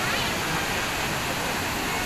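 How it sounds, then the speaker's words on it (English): Dense, unbroken roar of the Hogenakkal Falls waterfall in Tamil Nadu, close and loud from a hanging bridge, with no pauses. "just to see the view of this beautiful"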